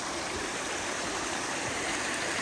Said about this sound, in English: Across a little bit of a flowing water.